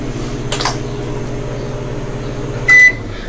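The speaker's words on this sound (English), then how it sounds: "Okay, so his sandwiches are in the microwave." A microwave oven heating sandwiches hums steadily up close, with a couple of brief clicks or rattles and a short electronic beep near the end.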